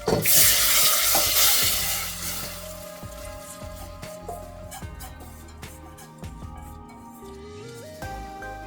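Raw rice tipped into a roasted mixture in a pan for coconut rice, with a loud rushing pour at first, then softer scraping and stirring, close up with faint background tones.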